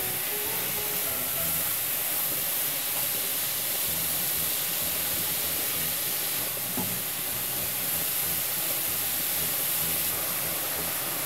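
Grated carrots fry in ghee in a pan over medium heat for halwa, giving a steady, even hiss and soft sizzle that runs unbroken at moderate level, with no voices.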